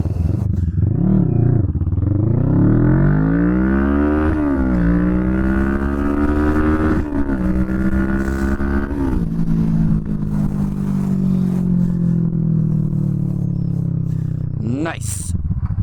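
A Kawasaki Vulcan S motorcycle launches and accelerates from standstill to sixty uphill, its loud engine note climbing in pitch through several gear shifts with brief dips between, rider speech heard in places.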